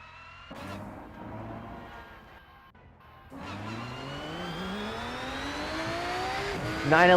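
Porsche 911 GT3 racing in the sim game Rennsport, its engine note rising steadily as it accelerates through the gears, loud and continuous with a brief dip before the climb.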